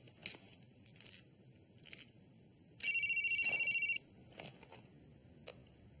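A telephone rings with a single electronic burst lasting about a second, loud and close, amid quieter rustling and small clicks.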